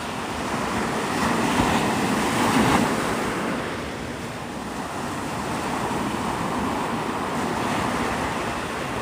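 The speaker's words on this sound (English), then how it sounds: "This is Pensacola Beach." Ocean surf rolls and breaks steadily along Pensacola Beach, a continuous broad wash of waves with some wind rumble, swelling slightly around the second and third seconds, no voices.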